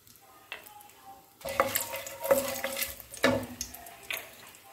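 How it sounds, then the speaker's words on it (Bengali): Bay leaf, dried chilli and cinnamon hit hot oil for rice, bringing a soft sizzle that jumps louder partway through, with several close scrapes and taps of a utensil against the pan. "এর মধ্যে আমি দিয়ে দিচ্ছি তেজপাতাটা, শুকনো লঙ্কা, দারচিনি"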